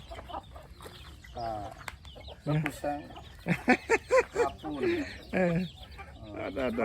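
Chickens cluck repeatedly in a rural Thai farmyard while being fed rice, the clucks near and fairly loud in short bursts over steady background noise, with someone talking intermittently.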